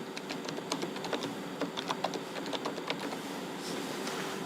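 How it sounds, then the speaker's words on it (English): Computer keyboard being typed on to enter a patient's name into an eye-imaging OCT system, a steady run of light, quick key clicks at moderate distance, with no voices. "We have to type the patient name"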